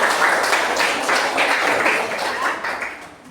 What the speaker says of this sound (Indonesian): kasih tepuk tangan untuk